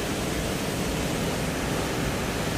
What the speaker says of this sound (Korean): 저 물 한 쏟아지는 거 안 보이소?